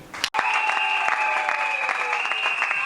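A church congregation breaks into loud, sustained applause after a brief cutoff, with steady dense clapping and a continuous crowd roar under it.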